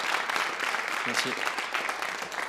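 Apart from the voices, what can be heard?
comedy club audience applause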